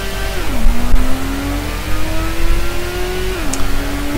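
A Toyota Supra's engine revs loudly and continuously in the Gran Turismo racing game, with its pitch climbing steadily and dropping sharply at two gear shifts.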